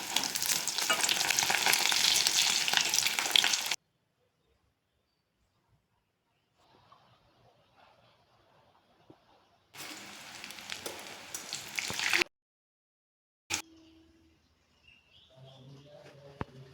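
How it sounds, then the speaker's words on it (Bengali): Small fish egg fritters fry in hot oil in a wok, a loud, dense sizzle that stops abruptly, returns in a second burst, and then gives way to quieter crackling. "এখন কড়াইতে তেল গরম করে ছোট ছোট বড়া বানিয়ে সোনালি রং হওয়া"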